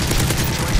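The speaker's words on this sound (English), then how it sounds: "I'm getting shot by the enemies." Rapid video game gunfire from enemies crackles in a dense, loud burst of overlapping shots within a fraction of a second.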